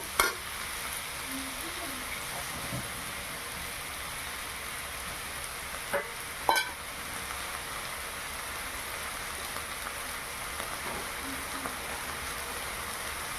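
Food frying in a pan for khar chhatu charchari is stirred, a soft continuous sizzle with a few scraping knocks of the spoon, fairly quiet and without talk.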